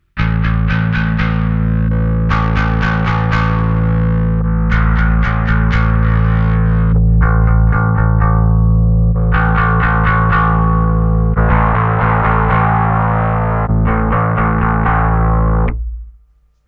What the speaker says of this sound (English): Once you're happy with the overall character of the distortion